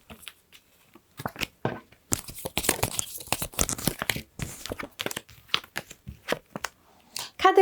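Tarot cards are shuffled, drawn and handled up close, giving a run of crisp paper rustles, flicks and crinkles in irregular bursts with quiet gaps.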